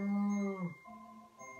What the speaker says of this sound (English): does anybody know what sound a cow makes?